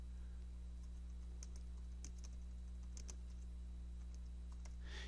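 Keys tapped on a computer keyboard as a sentence is typed, with a few distinct clicks spread over several seconds above a steady low hum, ending in a louder burst of keystrokes; no one speaks.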